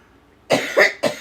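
Two or three harsh, close coughs in quick succession after a brief quiet moment.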